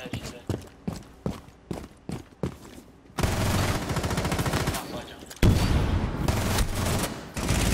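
Gunfire in Rainbow Six Siege: a run of separate sharp shots with short gaps, then loud sustained rapid fire, broken by a heavy blast and continuing, with voices faint underneath.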